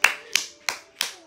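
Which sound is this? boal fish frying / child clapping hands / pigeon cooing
child clapping hands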